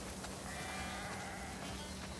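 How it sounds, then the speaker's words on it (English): Sheep on a farm in the video game The Last of Us Part II let out a faint, drawn-out bleat over a dense, noisy ambient backdrop. "We definitely have way too many sheep."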